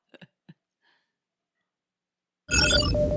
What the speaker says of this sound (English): Incoming transmission.